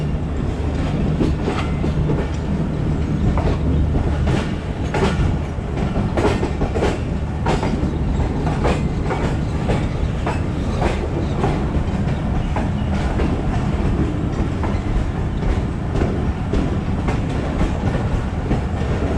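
Pakistan Express on the Multan to Rawalpindi run pulls out of Shorkot station with a steady rumble and a rhythmic clickety-clack of wheels over rail joints, heard from inside a carriage, without talk.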